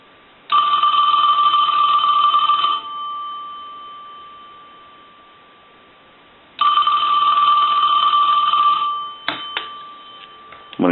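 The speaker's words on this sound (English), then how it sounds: "We want to ring the telephone. I'll let that go a few times." A Western Electric Princess telephone bell rings in two loud, sustained bursts with a pause between, then a few short clicks as it stops, close by with no voices.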